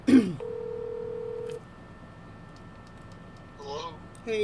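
Telephone dialing tones: a single sustained tone after a brief sound at the start, followed later by a few quieter tone bursts over faint background noise.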